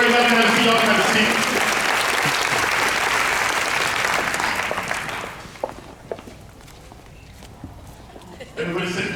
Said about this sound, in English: everybody give all the volunteers a round of applause.